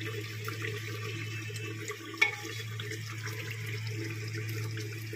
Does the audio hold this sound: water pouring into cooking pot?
yes